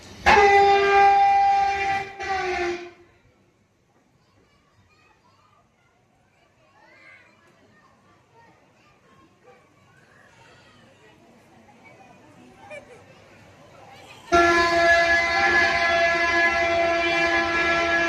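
A train running loudly, with a strong tonal horn or whistle blast at the start, near silence in the middle with faint background activity, then the loud horn-like roar returning at the end.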